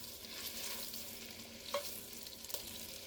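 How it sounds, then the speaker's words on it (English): Chunks of beef stew meat searing in a hot pot, a soft continuous sizzle broken by a couple of sharp utensil clicks against the metal, heard without any voices. "We want to sear this off."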